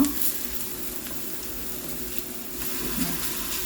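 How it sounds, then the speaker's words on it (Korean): Steady sizzling of a broccoli pancake made with glutinous rice flour frying in an oiled pan, a continuous close crackle with no talking. "이렇게 구워주는 거죠."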